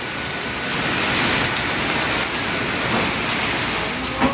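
A heavy downpour falls outside, its broad, constant roar of drops holding steady and near for several seconds, with a faint knock near the end.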